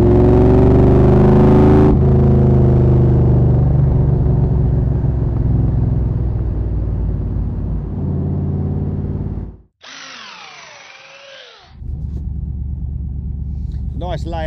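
A Cobra replica roadster from Southern Roadcraft pulls along with a loud, steady engine drone. Speech runs over it, and the sound briefly drops out before the engine returns.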